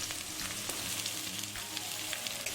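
Chili and onion fry in hot oil with garlic, producing a dense, continuous sizzle that stays loud and even from start to finish.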